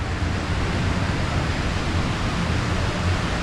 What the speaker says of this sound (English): It's a beautiful, beautiful waterfall.